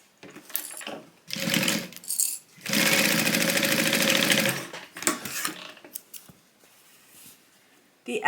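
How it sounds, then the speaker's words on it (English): A sewing machine stitches a tote bag seam at a 3/8 inch allowance, running in several loud mechanical bursts with short pauses between, the longest stretch lasting nearly two seconds. "So now we're going to go ahead and sew that together with a 3/8 inch seam allowance."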